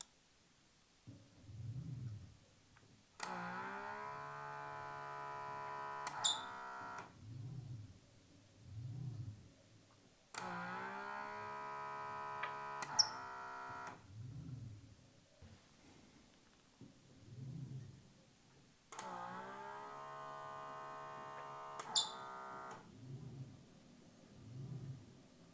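WLKATA MT4 robot arm fitted with a suction cup runs three movement cycles, each a sustained whirring motor whine with small clicks, separated by quiet stretches of soft low thumps.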